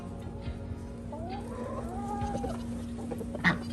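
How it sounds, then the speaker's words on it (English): Chickens on a small pasture farm, with a rooster making soft clucking calls that rise and fall through steady background noise, plus one brief louder squawk near the end. "Mr. Rooster."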